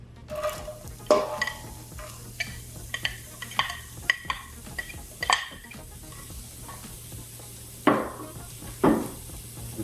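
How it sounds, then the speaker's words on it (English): A spoon scrapes and clinks against a pot while onions and garlic are stirred, with a steady low sizzle underneath and irregular knocks of utensil on metal, close and moderately quiet. "we're gonna stir it around first."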